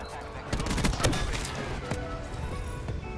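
Gunfire in a first-person shooter video game, a dense burst of rapid shots in the first half second that trails into scattered cracks, with a faint voice underneath.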